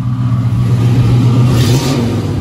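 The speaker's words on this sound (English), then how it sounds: "Let's listen to the exhaust." Close, loud exhaust of a 1970 Chevrolet Nova V8 idling roughly with a rumbling, throaty burble and a slight rise in revs partway through.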